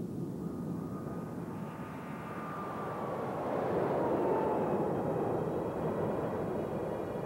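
Boeing 777 airliner engines in flight testing, a steady broad jet roar with a faint whine sweeping through the middle, swelling slightly louder partway through and heard at a moderate distance without voices.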